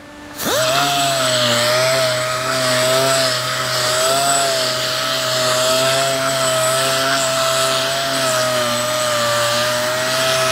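Power sander fitted with 80-grit paper grinding across rough barn wood for a live-edge mantel, a loud steady motor whine with a constant rasp that holds throughout after starting up near the beginning.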